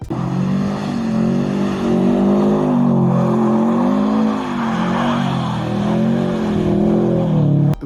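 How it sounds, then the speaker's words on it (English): An all-wheel drive car doing donuts in the snow, its engine loud and close, droning and revving in steady rising and falling waves throughout, with no one talking. "all-wheel drive donuts in the snow are a lot of fun"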